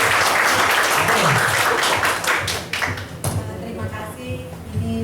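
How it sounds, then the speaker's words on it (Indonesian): An audience claps for Pak Haji at a church gathering, a dense burst of applause that thins and fades over a few seconds while voices carry on underneath. "Beri aplaus dong supaya tidak ada ya"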